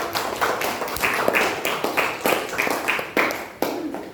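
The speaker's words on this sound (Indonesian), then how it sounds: "beri aplaus untuk kelompok" Applause for a student group at a teacher-training session in a classroom, a steady wash of many hands clapping close by that swells and ebbs for several seconds.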